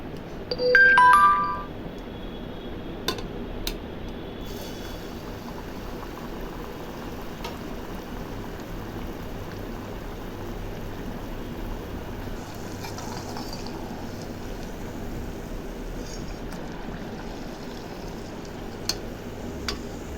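Rice-flour murukku drops into hot oil and sizzles in a steady, even hiss that carries on without a break, with a brief chime ringing near the start.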